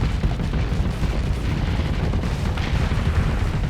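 Explosions rumble through a space battle in the game Starsector, a continuous dense, booming roar of blasts and weapon fire without pause.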